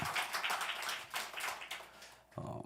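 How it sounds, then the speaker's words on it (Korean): A church congregation claps in thanks, a steady wash of many hands applauding at moderate distance, fading out before a different tone cuts in at the end. "은혜를 베풀어 주신 하나님께 감사의 영광의 박수를 올려드리겠습니다"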